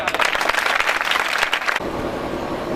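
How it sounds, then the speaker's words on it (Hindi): Loud applause from a seated audience at a Hindi student motivational session, a dense crackle of clapping for under two seconds before it gives way to a softer, steady hall noise. "एक बार जोरदार तालियां"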